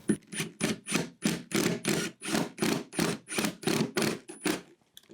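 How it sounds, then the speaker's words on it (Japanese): A drill bores a 13 mm hole through the middle of a wooden board backed by a scrap piece, in about a dozen quick, loud, evenly spaced bursts close to the microphone. "真ん中に穴を開けます。"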